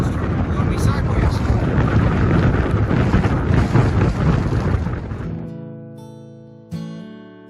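Wind on a coastal trail on the Oregon coast near Port Orford buffets the microphone with loud, heavy roaring gusts for several seconds. The noise then drops away, leaving a faint, quieter tail.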